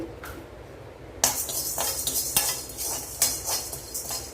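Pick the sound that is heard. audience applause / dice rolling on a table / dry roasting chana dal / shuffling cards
dry roasting chana dal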